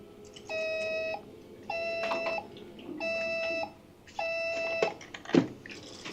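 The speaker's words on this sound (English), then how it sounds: "Phone making a different ringtone noise every buzz." Ringtone from a phone in the UFO video game, The Dalotek Affair, sounding as four evenly spaced bursts of bright electronic trilling tones, each about half a second long, followed by a few sharper clicks and a brief thud.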